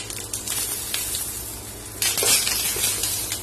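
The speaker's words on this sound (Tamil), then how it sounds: "இப்ப எண்ணெய் சூடாயிடுச்சு. இதுல வந்து கொஞ்சமா கருவேப்பிலை, ஒரு வரமிளகாய் வச்சிருக்கேன், அதை சேர்த்துக்கலாம்." Curry leaves and a dried red chilli hit hot oil in a pan while cooking a spicy okra fry, giving a steady close crackling sizzle that flares louder and brighter about two seconds in.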